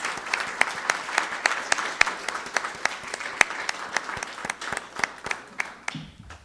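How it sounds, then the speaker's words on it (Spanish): A university audience applauds at an academic ceremony, steady crisp clapping from a large crowd filling the room, then stopping abruptly near the end. "Vamos a brindar un aplauso"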